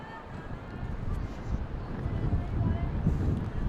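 Wind blowing across the microphone at an outdoor high school softball game in South City, heard as a low, gusty rumble that swells and fades, with faint distant voices.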